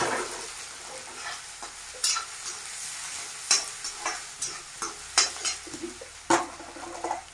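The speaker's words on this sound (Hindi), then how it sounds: "तेल में डालेंगे और सुनहरा होने तक उसको पकाएंगे।" Garlic and onion fry in hot oil until golden, a soft steady sizzle with repeated scrapes and clinks of a spoon stirring in the pan, close by and without talk.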